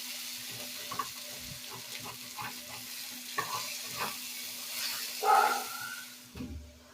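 Chicken bhuna fries in a pan with garam masala and meat masala, a steady close sizzle broken by repeated stirring scrapes, with a brief louder hiss near the end.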